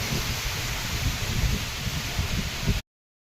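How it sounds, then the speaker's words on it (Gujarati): Strong storm wind in Amreli, Gujarat roars against the microphone ahead of rain, a continuous rushing noise with leaves rustling underneath, ending abruptly. "જો મિત્રો પવન ફૂલ છે."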